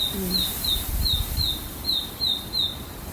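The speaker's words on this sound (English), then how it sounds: "I wonder what kind of bird that is." An outdoor bird repeats a thin, high chirping call seven or eight times in a steady series, under faint low rumble, with a person briefly talking in the background.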